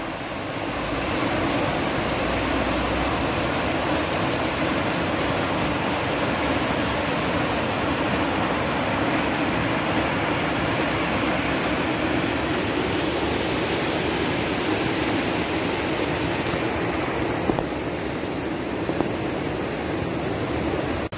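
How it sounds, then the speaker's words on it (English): Steady, dense rush of a small man-made waterfall in Ketchikan, Alaska, a constant broadband roar close by with no pauses and no voices. "So there's a little man-made waterfall-like area."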